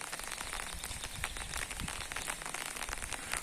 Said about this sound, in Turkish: İki gündür yağmur yağıyor arkadaşlar